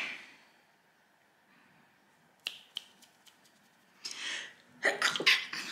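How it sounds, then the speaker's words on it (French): A single woman's sneeze bursts out sharply near the end after a few quiet breaths and small clicks, close and loud against a near-silent room. "Voilà, je vais éternuer."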